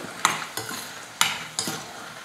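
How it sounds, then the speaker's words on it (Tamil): Dry red chillies roasting in a pan, heard as four sharp scrapes of a utensil stirring against the metal over a faint background sizzle, close and with no talking. "வரமிளகா வந்து ரொம்ப தீஞ்சு போகாமல் நம்ம வறுத்து எடுத்துக்கணும்"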